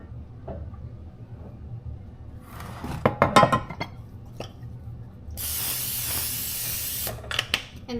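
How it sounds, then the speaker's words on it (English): Cooking spray hisses onto a baking pan in one steady burst of about two seconds, preceded by clinks and knocks of cookware being handled nearby. "I go ahead and grease my pan"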